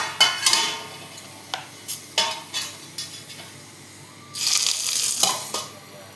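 Mustard seeds crackle and sizzle in hot oil for a tempering, a close, busy frying hiss with sharp pops and a louder burst near the end, and no talk.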